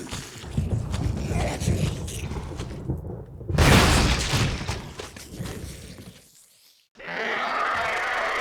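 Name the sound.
grenade explosion in the video game Resident Evil HD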